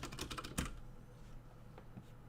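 Computer keyboard typing: a quick burst of clattering keystrokes in the first moment, then a few isolated soft clicks against a quiet background.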